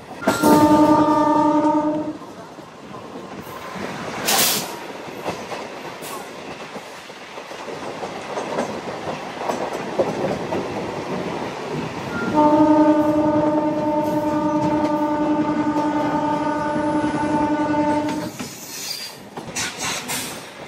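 Howrah–Tiruchirappalli train passing near Yelamanchili station, heard from aboard another train: a loud horn blast opens, then wheels clatter and rumble before a second long horn sounds, and the rolling noise carries on to the end.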